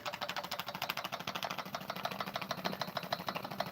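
An old trammer engine runs for the first time in about 40 years, chugging with a fast, even mechanical knock, close and steady throughout.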